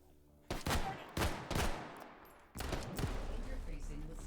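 Rapid automatic gunfire in the VR shooter H3VR comes in several short bursts, then a longer sustained volley, loud and close with heavy thumping reports.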